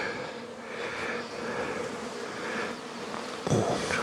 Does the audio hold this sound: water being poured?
no